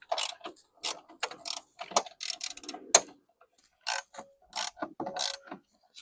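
A ratchet with a 16mm socket works loose a long blower motor bolt on a BMW F10 5 Series, giving bursts of close, rapid clicking separated by short pauses.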